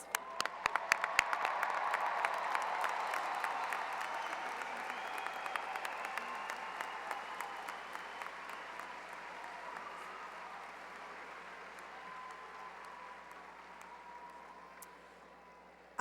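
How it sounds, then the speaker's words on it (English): A large crowd applauds graduates at a 2017 high school graduation ceremony, with dense, sustained clapping that swells early and then slowly fades over about sixteen seconds. "Let's have a nice big round of applause for all of our graduates."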